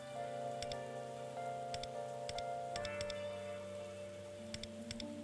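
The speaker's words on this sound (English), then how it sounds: "it's raining, so I'm not gonna get anything" Steady rain patter in the video game Persona 5 X, a soft continuous hiss with scattered droplet ticks, layered under sustained tonal game music, with no talking.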